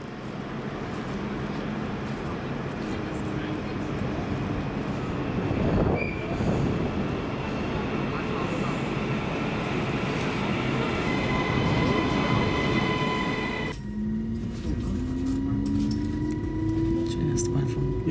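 Interior of a moving train bound for Liverpool from Wigan North Western, a steady rumbling ride with rail hiss, a brief louder surge midway and a rising motor whine near the end, while a voice talks over it.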